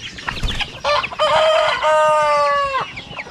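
Native chickens cluck briefly before a rooster lets out one loud, close, drawn-out crow lasting about two seconds in a farmyard.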